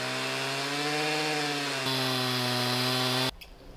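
A homemade chainsaw mill cuts through wood from a fallen tree with a loud, steady, high engine whine. The pitch holds nearly constant and then stops abruptly near the end.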